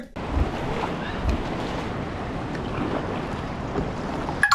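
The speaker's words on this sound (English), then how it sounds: "That crashing wave is wild." Whitewater crashes steadily at a high-water river wave in Mather Gorge, a loud continuous roar and hiss with wind buffeting the microphone throughout.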